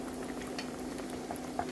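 Chicken pieces for crispy fried chicken bubble in hot oil, making a dense, even seething crackle for a brief moment, with a faint steady hum underneath and no talking.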